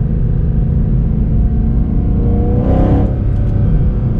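A Mercedes-AMG C63 Black Series with a seven-speed paddle-shift gearbox roars close by, a loud steady engine drone that swells into a brief rev midway before settling back.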